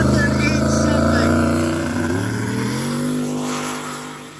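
Drag racing vehicle at the midwest drags, engine roaring loudly with harmonic tones that climb and then settle as it pulls away down the track, with people talking over it.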